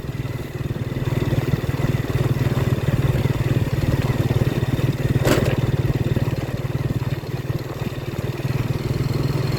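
A kick-start motorcycle runs steadily while being ridden to a fuel station early on a cool morning, a loud, continuous engine drone close by with a brief sharper burst midway and no talking.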